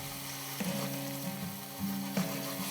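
White wine hits a hot pan of fish sauce, giving a steady sizzle and frying hiss with low bubbling and a few soft clinks of stirring, no voices.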